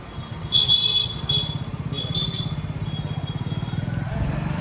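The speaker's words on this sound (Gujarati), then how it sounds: "કિશોરભાઈ બાઇક ચલાવે છે." A motorbike being ridden gives a steady, close engine putter with a fast pulsing rhythm, and a couple of brief horn toots sound early on.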